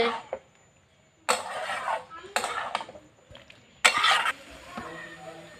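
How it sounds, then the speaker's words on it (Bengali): Potatoes are stirred in a pan while cooking, in three loud scraping, sizzling bursts separated by quieter pauses, with a voice speaking between them. "আলুগুলো দিয়ে দিচ্ছি খুব সুন্দর করে এটাকে কষাতে হবে"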